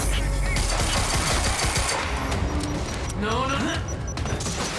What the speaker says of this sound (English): I don't have any guns other than my infinite ammo pistol.